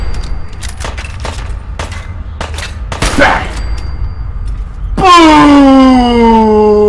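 Rapid bursts of gunfire from Fallout 4 crack in a loose volley, followed by a loud, sustained horn-like blare that dominates the end.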